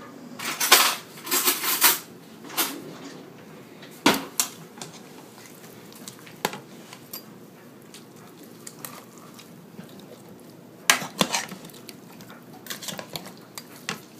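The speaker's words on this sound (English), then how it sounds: "We're going to stir it around." Chicken fricassee being stirred in a pot with chicken stock, a Cuban-style dish: clustered bursts of spoon clinks and scrapes against the pot, loudest near the start and again toward the end, with quieter rattling between and no talk.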